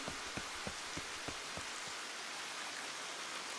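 Steady rain hiss in a horror video game set in a creepy mansion, a dense wash of falling water with a few soft low thumps early on, fairly quiet and continuous, no voices.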